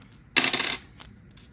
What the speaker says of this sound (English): roll 2 dice